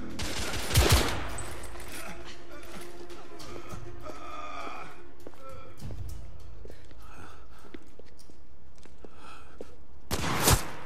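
Gunfire in the video game The Order: 1886 cracks out in two loud bursts, one near the start and one at the end, with quieter game action, breaths and rustling between them.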